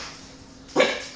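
A single sharp dog bark bursting out near the end after quiet room tone, fairly close and clear.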